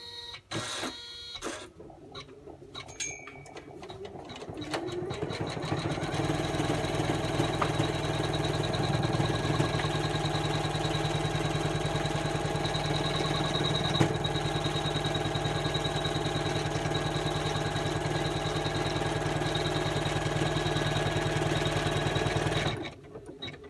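An embroidery machine stitching an in-the-hoop patchwork design, a steady rapid mechanical hum and chatter that starts after some handling noises and runs continuously before stopping abruptly near the end.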